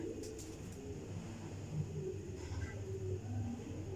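Pigeons cooing in a loft, low soft repeated coos layered over a steady background hum, moderately faint and continuous.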